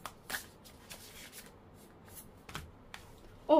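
Oracle cards being shuffled by hand, a series of quick soft riffling and sliding bursts, close and fairly quiet, ending with a louder slap of cards.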